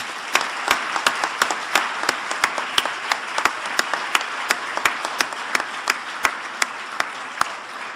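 Audience applause for three panelists after a discussion on children's rights, a steady room-filling clapping with sharp individual claps standing out, sustained for several seconds with no talk over it.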